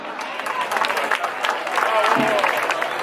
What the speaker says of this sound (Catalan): Recibim-lo en un fort aplaudiment.